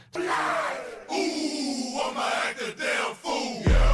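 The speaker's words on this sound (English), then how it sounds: "them cheerleaders cheering on the team" Crowd and cheerleaders cheering in a college football video game stadium: a loud, continuous roar of massed yelling voices with surging peaks, ending in a sharp burst.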